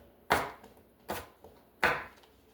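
Squash and zucchini being sliced with a knife, three crisp chops onto a cutting board at an even pace, close and clear with nothing else around them.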